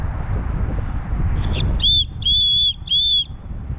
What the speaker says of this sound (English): The case actually has a whistle on it.